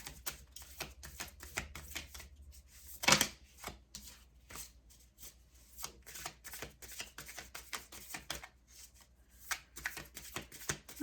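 Playing cards are shuffled repeatedly up close, a rapid series of soft riffling flutters and taps with short pauses between bursts.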